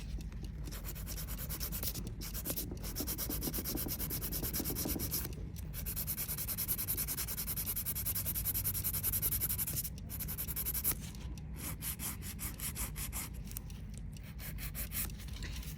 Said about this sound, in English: Before filing, you can just file in one direction or buff in one direction to remove the sticky layer.